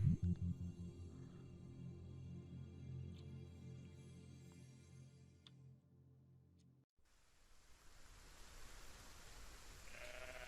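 Bleats from a sheep in the game Everything, a harmonic animal call over a low droning background that cuts off midway, followed by a quieter hissing ambience.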